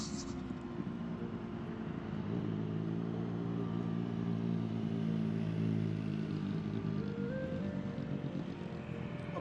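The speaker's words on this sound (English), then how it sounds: "Over there's the American Airlines Boeing 737-800 taxiing onto the runway for takeoff." An American Airlines Boeing 737-800 taxiing onto the runway at Harry Reid International Airport, a steady distant engine whine and rumble with slowly shifting tones, heard alone.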